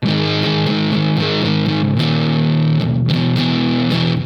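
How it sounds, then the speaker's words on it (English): Electric guitar played through an ART SGX 2000 preamp on its Rock Class 101 solid-state distortion preset, loud and sustained, with chords ringing out in a steady rhythm and brief gaps between strums. "on this particular preset, on Rock Class 101, which is funny because it's a solid state distortion"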